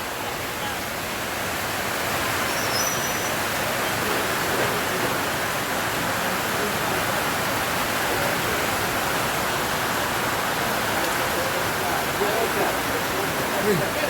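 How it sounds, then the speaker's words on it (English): A real river rushes past in the rain, giving a steady, dense roar that fills the whole stretch and stays loud and constant from start to finish. "We're in a real river right now."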